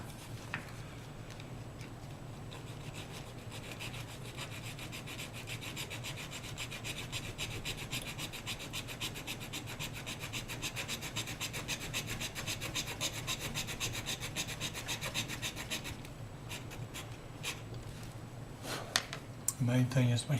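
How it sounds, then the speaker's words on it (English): Rough sandpaper rubbed steadily over the inside joined edge of a 1/350 scale Ktinga plastic model kit, a fast, continuous close scratching that runs for about twenty seconds before ending in a few handling knocks. "I'm going to go back with some rough sandpaper to finish it down."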